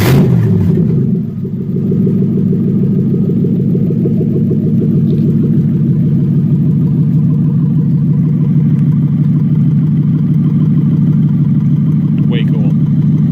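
A Toyota 1UZ V8 runs at a steady idle through open headers, a loud, close, continuous rumbling burble after a brief rev at the start.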